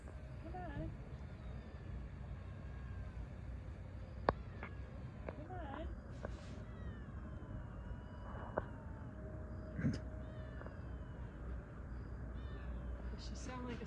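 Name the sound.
cat meowing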